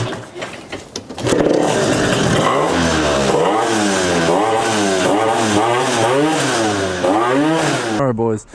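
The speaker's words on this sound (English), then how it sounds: "let's go try out this Piaggio" Piaggio Typhoon stunt scooter with a carburettor still being tuned: the small engine sputters, then revs loudly up and down in repeated close, rising and falling bursts.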